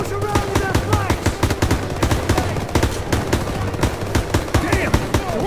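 Machine gun fire in Call of Duty: WWII during an assault on a staircase in Aachen, Germany: steady rapid bursts of loud shots, with voices talking and shouting over the gunfire.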